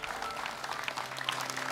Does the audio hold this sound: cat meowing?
no